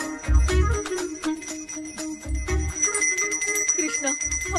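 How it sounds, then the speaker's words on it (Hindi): A small bell rings repeatedly on its own, bright metallic dings in quick irregular bursts with low thuds under them, close and clear. "ये तो अपने आप बज रही है"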